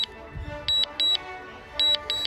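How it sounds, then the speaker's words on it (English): A DJI Mavic Mini drone controller beeps in two paired bursts, high and steady, each pair a short double tone, over low background hum. "So we hear the beep"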